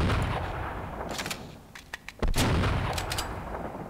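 Main turret firing in Half-Life Sven Co-op, a few sharp, heavy gunshot blasts clustered in the middle and near the end over steady game background noise, loud and close.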